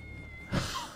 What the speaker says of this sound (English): It's just a random ass cat over there.